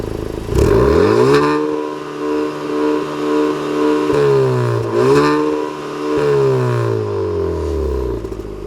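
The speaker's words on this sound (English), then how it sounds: "Now I'm going to go ahead and rev it up." A Honda Civic Type R with a Remus exhaust revs hard to 4,500 RPM twice, each time climbing sharply, holding briefly, then sliding back down to a loud, close, throaty idle.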